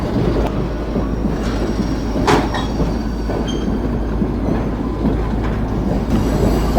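A White Pass and Yukon Route train rolls past on the rails at a crossing in Alaska with a continuous heavy rumble, wheels clattering and occasional faint squeals.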